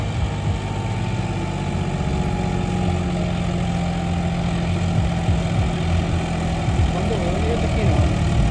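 A John Deere 5210 4x4 tractor engine runs steadily throughout, a loud, close, continuous low diesel rumble with no breaks.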